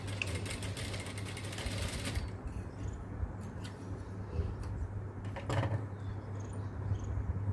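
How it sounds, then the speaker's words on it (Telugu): A sewing machine stitches elastic onto a baby dress, giving a steady, close mechanical whir with fine ticking that runs without pause, with no voices. "ఒక కుట్టు మీద కుట్టు కుట్టు మీద కుట్టు నాలుగు కుట్లు వేసుకుంటే గట్టిగా ఉంటుంది"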